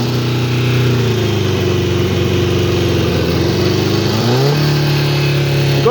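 The engine of a piling machine runs close and loud with a continuous buzzy drone, then its pitch shifts up sharply as more throttle is applied near the end.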